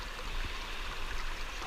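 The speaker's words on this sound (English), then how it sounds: "I'm going to wash these dirty socks just in water" Dirty socks being swished and rinsed in cold water with no soap on a long-distance hiking trail, producing a steady close-up trickling and sloshing that runs throughout, with no voices.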